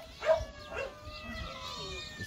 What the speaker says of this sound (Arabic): فين يا جماعه؟ القطط بتستقبله